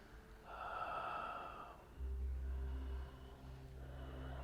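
Breathing during a yoga pose: one drawn-out, audible breath, followed by quieter steady breathing over a low, constant hum.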